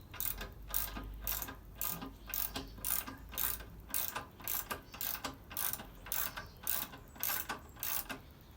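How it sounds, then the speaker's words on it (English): A scissor or screw jack being cranked up under a 1980 Harley-Davidson Ironhead Sportster during rear suspension work gives a steady run of rhythmic ratcheting clicks, about two per second, close and moderately loud with no talking. "So let's now start jacking the bike up."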